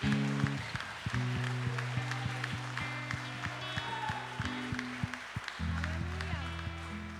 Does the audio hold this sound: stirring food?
no